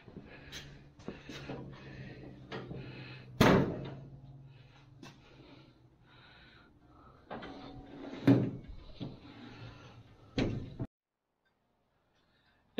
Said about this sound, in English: I can still shut the door